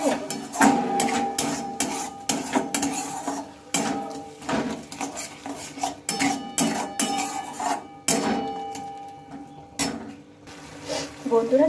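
A spoon stirs sugar into a grated carrot and flour mixture in a bowl, making busy, uneven scraping and clinking sounds that repeat close by throughout.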